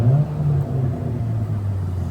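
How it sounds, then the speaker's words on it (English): An old Saab turbo with a 4-speed runs at a steady idle, its low, even engine rumble close by and unbroken for a couple of seconds. "That thing sounds pretty good. Turbo 4-speed. Old Saab."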